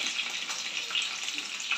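Fried fish slipping into a pot of boiling water with green peas for a homemade fish curry; a steady, close, bright hissing bubble runs through without break, and no one speaks.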